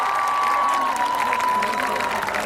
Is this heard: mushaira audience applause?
yes